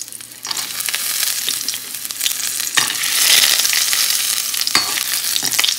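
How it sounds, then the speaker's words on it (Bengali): Lentil dumplings (bori) dropped into hot oil in a wok, a loud, steady close sizzle that surges midway, with brief scrapes of stirring. "কড়াইয়ের মধ্যে দিয়ে দিচ্ছি বড়ি।"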